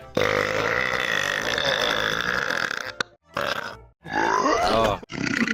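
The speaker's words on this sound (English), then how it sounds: "Burps. Lots and lots of burps." Long, loud belches from a person in a VR game setting, one drawn-out burp followed by several shorter ones with brief gaps, close and dominant.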